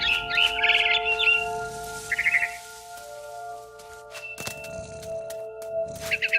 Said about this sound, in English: Then I heard chirping outside my window. It was a barn swallow